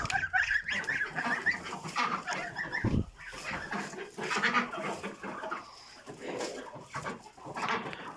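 Noisy outdoor flock of honking geese, several birds calling over one another in bursts, close and fairly lively, with other farm animal sounds mixed in.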